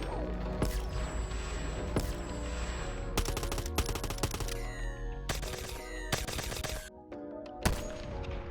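A modded Call of Duty ray gun fires in the VR game Bonelab, sending out repeated sharp bursts and sci-fi zaps in quick irregular volleys, loud and close, with brief lulls between shots.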